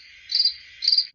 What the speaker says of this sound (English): A cricket goes.